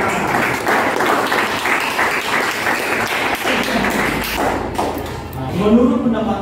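Classroom applause during a business and computer networking lesson, dense clapping from a group of students filling most of the stretch before tapering off as a voice begins.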